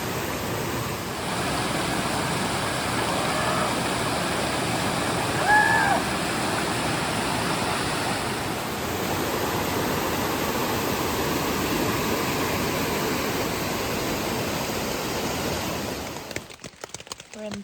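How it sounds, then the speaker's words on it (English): A small waterfall on a rain-soaked backpacking trail in the Wild River Wilderness gives off a steady, close rushing wash of water. It fills the whole stretch at an even level with no talking. "Cool little waterfall."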